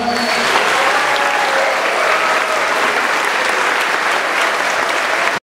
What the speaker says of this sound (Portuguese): E for favorável a sentença, levante a mão. Uma salva de palmas.